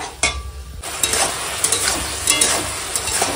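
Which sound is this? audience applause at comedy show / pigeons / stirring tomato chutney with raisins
stirring tomato chutney with raisins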